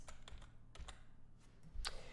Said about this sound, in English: I'm just using the left, right, up, down arrows on my keyboard just to shift this wood beam into place